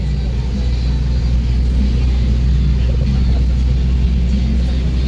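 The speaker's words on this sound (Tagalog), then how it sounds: "Nahihirapan po umahon yung sasakyan." A heavily loaded car engine labours uphill, a dense low rumble held steady and close throughout with no clear revving changes.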